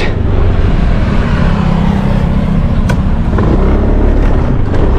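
A motorbike engine drones steadily and loudly at close range as it rides down the road, with a constant low rumble and faint traffic-like wash throughout.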